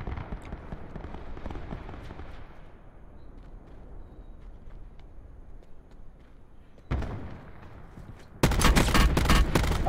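Gunfire in the video game Call of Duty Blackout, bursts of rapid shots at moderate distance, thinning out midway, then a sharp louder burst of fire near the end.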